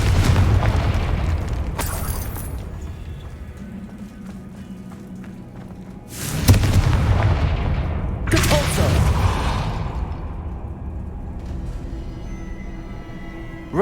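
Confringo fire spell bursts in Hogwarts Legacy, several loud booming blasts with sharp onsets and rumbling tails, spaced a few seconds apart over background game ambience.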